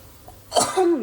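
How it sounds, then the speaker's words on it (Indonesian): A single sharp cough from a woman while she is cooking vegetable soup, close and abrupt, with a brief throaty tail after it. "Aduh, batuk."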